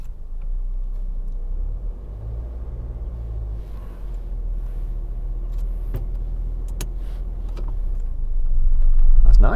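Car pulling away from a hill start during a driving lesson, engine rumbling steadily and building louder toward the end, with faint background voices.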